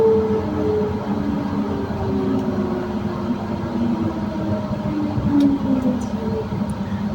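A tram braking at Świderska stop slows with a low rumbling drone and faint squealing tones from the wheels, steady and continuous from inside the carriage.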